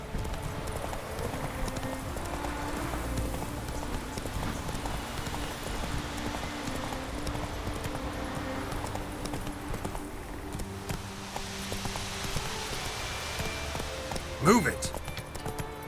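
Roach, a horse in The Witcher 3, gallops with steady, rhythmic hoofbeats over ambient game sound, and a voice speaks briefly.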